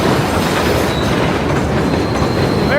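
Loud, steady rumble of the New York 7 train running on elevated tracks directly above, with rhythmic clickety-clack over rail joints and a short wheel squeal near the end.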